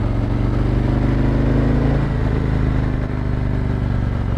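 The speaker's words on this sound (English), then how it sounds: "Look at me. I'm on a motorbike." A motorbike hums loudly and steadily as it is ridden, its engine note shifting slightly partway through, with no voices over it.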